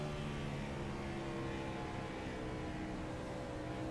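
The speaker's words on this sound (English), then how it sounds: "You downshift that car so that you can get some mid-turn rotation." A race car engine on an oval track at Gateway drones steadily at high revs through a turn, its dense, continuous roar holding near and loud without a break and no voices over it.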